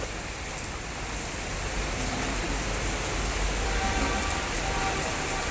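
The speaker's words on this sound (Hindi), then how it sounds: "हो रही है ना बारिश। बारिश हो रही बाबू, बारिश हो रही है।" Steady rain falls outside as a dense, even hiss of drops on surfaces, continuous and fairly close, with no voices.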